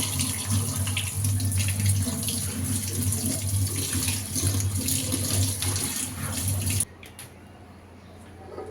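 Running tap water rinsing chopped potatoes and onions in a sink, a steady close splashing stream that stops near the end, leaving quieter dripping and room noise.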